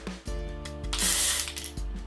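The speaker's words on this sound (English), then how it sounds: "just give that a little spray through from the top" Lee Stafford Original Dry Shampoo, an aerosol, is sprayed into hair roots from the top, a close hissing burst rising and fading over about a second, with clicks of the can and no speech.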